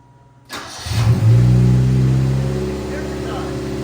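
A Yugo car engine cranks and catches about half a second in, then revs up loudly before settling into a steady, rough idle, close by.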